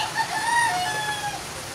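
A rooster's drawn-out crow rises and falls, with other chickens faintly calling in the background, fairly close and without talk.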